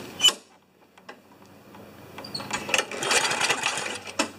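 A 4HP Briggs & Stratton lawn mower engine is pull-started by hand while it has an ignition fault and will not fire: a sharp rattling jolt, then irregular mechanical clattering and whirring bursts that swell toward the end, nearby with no engine catching.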